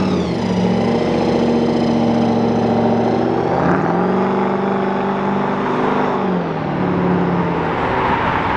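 An Aston Martin DB12 drives out of Brooklands with a loud, steady engine drone close by, its pitch climbing, dipping as it shifts, then rising again under throttle, with no voices.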